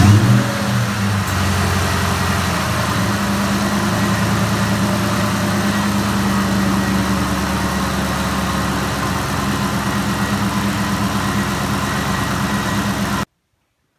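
A 2003-2004 Ford SVT Cobra Terminator with a supercharged engine idles steadily after a supercharger oil change, a loud, close, even rumble that holds for about thirteen seconds before cutting off.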